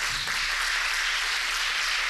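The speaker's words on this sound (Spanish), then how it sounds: "Dale un aplauso al Señor." A church congregation applauding, a dense continuous wash of many hands clapping at close range throughout, loud and even with no voices over it.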